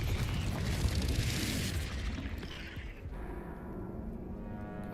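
A Confringo spell blast in a Harry Potter video game, a loud, dense roar of explosive noise that swells through the first seconds, then thins into a rumbling, crackling tail.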